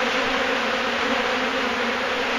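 A dense swarm of roughly 100,000 agitated honey bees buzzing all around, a thick, steady, continuous drone close by and loud with no pauses and no speech.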